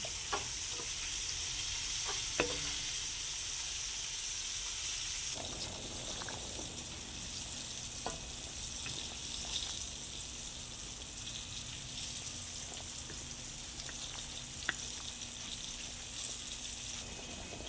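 Meat cooking in coconut milk for ginataan kalabasa with sitaw and malunggay, heard as a steady, even sizzle and bubble in the pan with occasional utensil clinks, with no voices.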